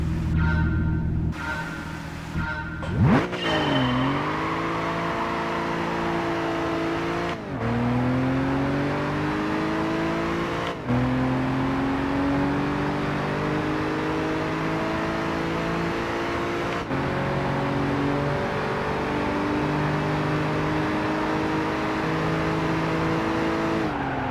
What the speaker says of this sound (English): I was just testing out a new way of accelerating